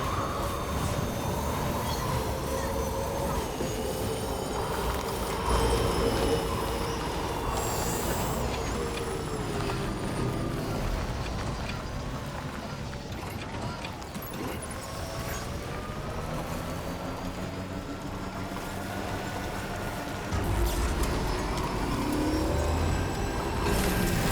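A small, goofy vehicle drives along in Death Stranding 2: On The Beach, its steady engine hum and rumble running continuously and fairly loud, with some hissing and rattling bursts near the start and end.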